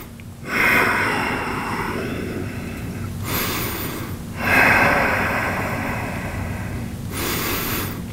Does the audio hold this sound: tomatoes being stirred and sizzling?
no